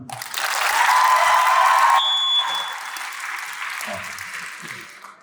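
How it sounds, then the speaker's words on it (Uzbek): Audience applause, a dense burst of clapping that swells quickly, holds loud for a couple of seconds, then gradually thins and fades. "Bu qilgan ishingiz uchun katta rahmat aytaman va bu olqishlar sizlar uchun"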